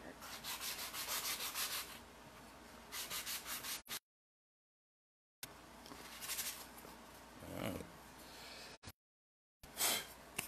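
Rhythmic scraping of sandpaper rubbing on wood by hand in short repeated strokes, close up, broken by pauses of silence.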